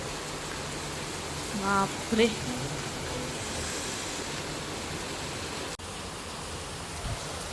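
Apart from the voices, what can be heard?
heavy downpour of rain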